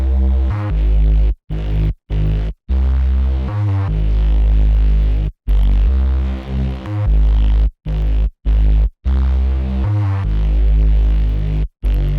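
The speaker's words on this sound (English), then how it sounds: "So yeah, I just put down this bass pattern." Deep 808-style bass pattern made in FL Studio for a high-energy trap beat, following the root notes in loud sustained booming tones with brief gaps between notes, heavy and humming, no talk.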